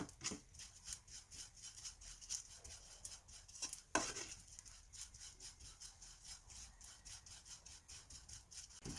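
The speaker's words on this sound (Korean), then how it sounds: "약한 불에서 이제 멸치를 볶아주도록 할게요" Small dried anchovies are stir-fried in a pan over low heat, heard as quiet, rhythmic scraping and rubbing strokes of a utensil against the pan, repeating roughly every half second with one sharper knock midway.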